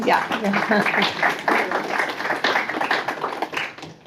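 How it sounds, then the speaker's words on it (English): Dense applause from an audience at an author's book talk, a steady wash of many hands clapping close by, with voices mixed in throughout. "round of applause"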